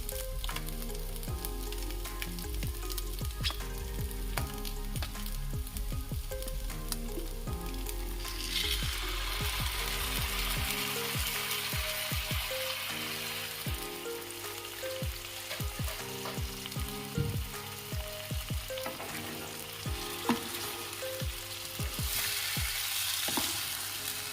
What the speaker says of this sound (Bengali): এটা আমি ভালো করে আলুর সাথে কষিয়ে নেব